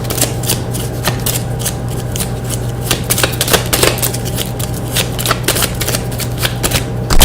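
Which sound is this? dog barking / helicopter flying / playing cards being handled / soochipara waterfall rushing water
playing cards being handled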